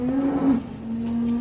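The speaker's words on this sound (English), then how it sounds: "real big cow." A large dairy cow moos once in a long, steady low call, close and loud, with no one speaking over it.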